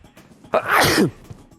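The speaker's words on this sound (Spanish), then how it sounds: "Perdón, pero tuve que estornudar." One loud, sharp sneeze bursts out close to the microphone during a Spanish-language talk show, a quick intake followed by a noisy forceful expulsion lasting about half a second, surrounded by near silence.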